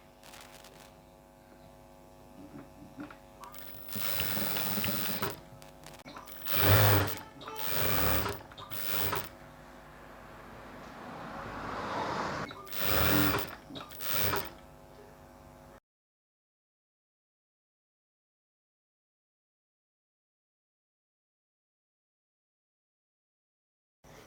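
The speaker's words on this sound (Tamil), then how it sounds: "இதிலேருந்து ஒரு 1/2 இன்ச் அளவுக்கு பிடிச்சி தையல் போடணும்" A sewing machine stitches a half-inch hem on a dhoti salwar leg in several short bursts of buzzing with quiet handling between them, then the sound cuts to silence.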